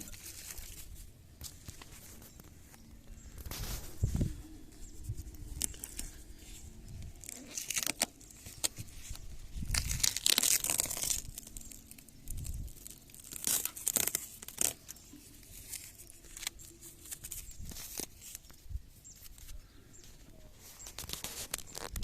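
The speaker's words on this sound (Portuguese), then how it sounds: "Nós vamos tentar tirar aqui um bocado de fita e ver o que está por baixo." Tape is peeled and torn off the roof of a 1982 Datsun Urvan E23 van, rotted and full of holes, in repeated ripping, crinkling bursts up close, with outdoor ambience and faint birds behind.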